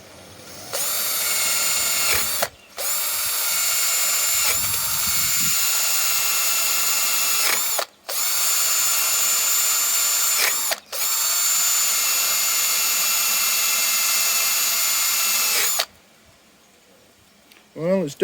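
A drill spins a wire brush attachment during a Mazda MX-5 coolant leak repair, a loud steady high whine running in long bursts with brief stops, then cutting out near the end.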